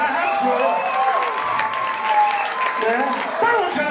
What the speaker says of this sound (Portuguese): Ai, vamos aplaudir, gente.